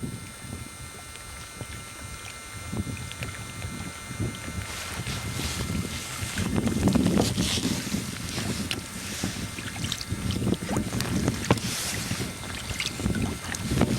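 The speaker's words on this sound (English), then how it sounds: "I'm happening to film this with one hand and paddle a double paddle with the other" Kayak paddling with a double-bladed paddle close to shore in shifting wind, a steady run of soft water splashes and strokes over continuous wind buffeting on the microphone, fairly near and moderately loud throughout.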